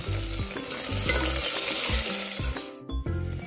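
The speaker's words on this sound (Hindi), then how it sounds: "इसके अंदर ऑनियन डालेंगे, ऑनियन को हल्का ब्राउन कर लेंगे।" Onions fry in a hot pan until light brown, giving a loud, continuous sizzle close up. Rhythmic scraping strokes of stirring repeat throughout until a brief pause near the end.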